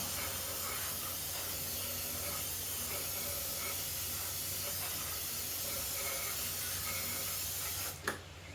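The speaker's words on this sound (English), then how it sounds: "I just did spray quite a bit down in there." A spray can hisses steadily and close into the engine bay of a non-running C4 Corvette Pace Car Edition, a continuous broadband rush that stops abruptly near the end with a small clunk.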